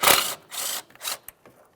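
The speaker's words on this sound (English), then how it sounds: "Remove that 8mm headed bolt and break this free." Short bursts of a ratchet breaking loose and backing out an 8mm-head bolt on the ABS wire bracket in the front wheel well of a 2006-2012 Ford Fusion, three broad rasping pulses followed by a few faint clicks, close up with no talk.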